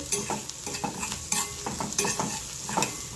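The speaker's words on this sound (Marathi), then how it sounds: "सर्व मसाले आपल्याला तेलावर थोडे परतून घ्यायचे" Red chili powder, garam masala and coriander powder sautéing in hot oil for egg bhurji, a soft sizzle under a series of brisk spatula scrapes and light clinks against the pan, close up, with no talking.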